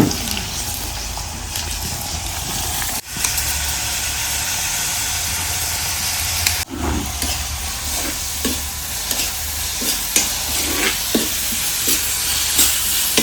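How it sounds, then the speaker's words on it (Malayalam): Tomatoes sautéing in coconut oil for a brinjal curry, a steady dense sizzle running throughout, with a ladle scraping and stirring in repeated strokes, close and fairly loud, and two brief gaps where the sizzle drops out. "ഞാനിപ്പോൾ അത് വെളിച്ചെണ്ണയിൽ തന്നെ വഴറ്റണ"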